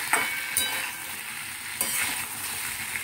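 Vegetables for sukto stirred with spices in a hot pan give a steady, close sizzle with a few sharp scrapes of the spatula, and no one speaks.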